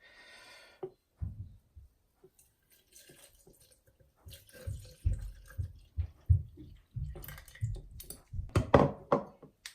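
Milk is poured into a blender for a breakfast smoothie, giving soft, irregular liquid glugs and splashes with a few light thunks against the container, close and fairly quiet.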